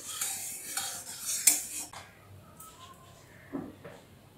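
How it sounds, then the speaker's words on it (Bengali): A utensil stirs white oil heating in a kadai wok, making a soft metallic scrape and clink at a low level, busier at first and then easing into quieter occasional taps. "তেলটা একটু গরম করে নিচ্ছি নেড়ে চেড়ে।"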